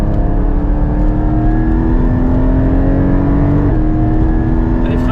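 A Porsche GT4 engine pulls hard on a race circuit, a loud continuous rising drone with steady harmonics climbing in pitch across the whole stretch, close and dominant, with no voices over it.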